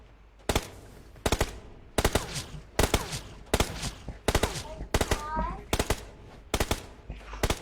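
Rapid gunfire in the mobile battle royale game PUBG Mobile: repeated sharp bursts of automatic shots about every half to one second across the whole stretch, loud and punchy, with a faint voice underneath.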